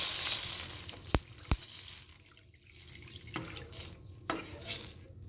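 Water is poured into a cooking pan over softened onions and garlic, splashing and trickling with a couple of sharp clinks, then settling into lighter sloshing.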